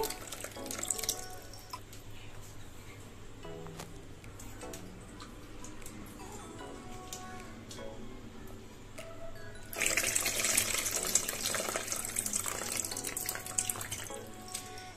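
Faint clinks and drips, then water pours noisily onto soaked tamarind for the last few seconds, a steady splashing rush.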